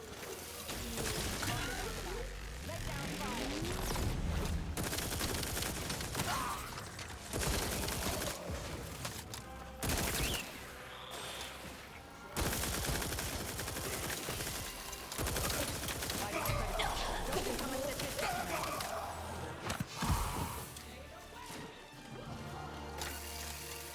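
Gunfire in the video game The Outer Worlds 2 during a final fight: continuous loud shooting, crashes and impacts layered with dense combat noise, with voices talking over the action throughout.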